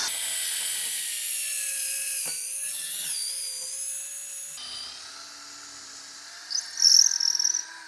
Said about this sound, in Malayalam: അടുത്തായിട്ട് നമുക്ക് ഈ ഒരു ഭിത്തിയിൽ ഹോൾട്ട് നോക്കാം.